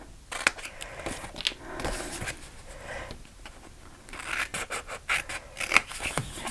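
Scissors snip through paper while a pop-up Mother's Day card is cut out, a series of close, crisp cuts with quiet rustling between them.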